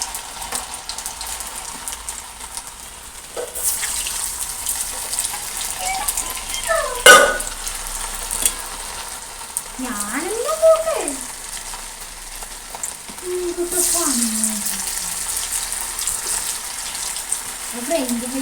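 French fries frying in hot oil, a steady bubbling sizzle that swells loudly and keeps running close by, with a voice talking over it at times.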